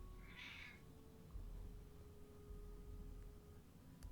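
A pet cat named Thiefy gives a single short meow near the start, then stays quiet over a steady low hum and faint background noise.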